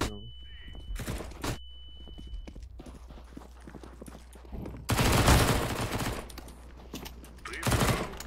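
Bursts of rapid gunfire from the video game Counter-Strike, with dense volleys near the start, a long loud barrage midway and another short burst at the end, broken by quieter stretches.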